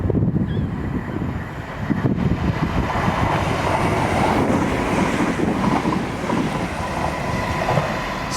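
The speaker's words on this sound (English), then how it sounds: "just coming through now is a Class 170 Turbostar" A Class 170 Turbostar diesel multiple unit runs through South Gyle on an Edinburgh Waverley to Glenrothes service, a loud continuous rumble with rhythmic wheel clatter and wind buffeting on the microphone throughout.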